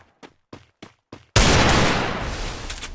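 Shooting video game gunfire at a headshot: four sharp, evenly spaced single shots, then a loud sustained burst of fire that slowly fades.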